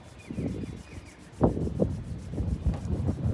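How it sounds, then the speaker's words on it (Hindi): Palms rubbed together during a post-workout relaxation routine, a close, dry brushing swish in repeated strokes with a couple of sharper rubs, under quiet surroundings. "कंटिन्यूसली रब करें। अपने आइज़ पर मसाज दें। Again rub your palm."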